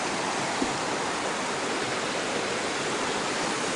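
A creek runs beside a hiking trail with a steady, full-band rush of water, continuous and fairly loud with no pauses or voices.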